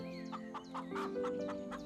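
Cartoon hens cluck in quick, evenly spaced bursts, about seven short clucks in a row, over steady sustained background tones in an animated story.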